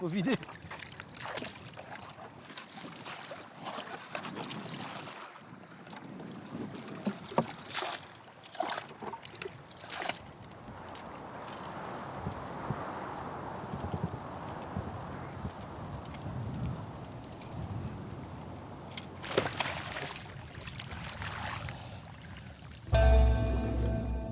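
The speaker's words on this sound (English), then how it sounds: "I'm bailing out the boat, it's full." Water sloshes and splashes in irregular scoops as a small pirogue is bailed out at sea in Indonesia, with light trickling and knocking against the hull throughout.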